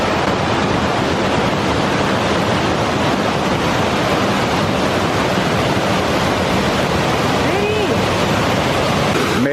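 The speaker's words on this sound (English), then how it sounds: "How come Mike's always take you to a waterfall? Because waterfalls are beautiful" Lower Reid Falls near Skagway pours in a loud, steady broadband roar of falling water, close and continuous, with no clear voices over it.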